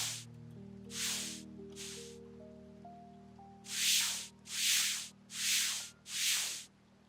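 Bursts of nozzle spray from a cozy restoration cleaning game, about seven loud hissing blasts: three softer sprays, a pause, then four strong evenly spaced ones over a steady low music hum.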